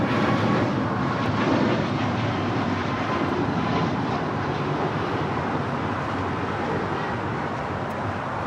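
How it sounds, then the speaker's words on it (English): An Alaska Airlines Boeing 737 MAX 9 departs Los Angeles International Airport, its jet engines producing a steady, loud, broadband roar that holds evenly throughout without a break, with no voices. "That was Alaska Airlines Flight 1147 heading to Seattle, Washington in the 737 MAX 9."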